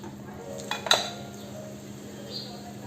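A metal spoon scrapes and clinks against a pan while spices are stirred and sautéed over a medium gas flame for kaju masala, with one sharp clink and a few soft scrapes over a low background hum.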